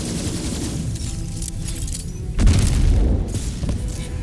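Gunfire in Borderlands 3 during a Mayhem-mode fight against the Ruiner: a dense, loud stretch of booming shots and blasts that swells in the middle of the clip, with no voices.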